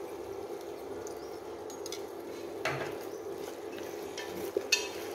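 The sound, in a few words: coconut water added to simmering vegetarian curry, stirring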